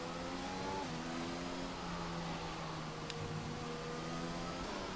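Ferrari Formula 1 car engine from an F1 cockpit racing game, with a steady high droning whine and gliding pitch harmonics running continuously and loud through the whole stretch.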